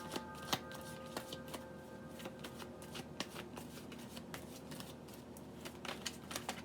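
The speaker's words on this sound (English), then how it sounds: "We are shuffling the deck for Aquarius." A deck of tarot cards is shuffled by hand, a soft, close, continuous riffling and flicking with scattered sharper taps, quiet and steady, with no talking.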